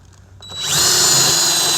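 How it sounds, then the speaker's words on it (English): A drill with a hidden deck screw attachment spins up after a brief quiet moment, rising into a loud, steady high-pitched whir as it drives a screw at an angle into a deck board. "It's like attaches to your drill and it puts all the deck screws in like hidden."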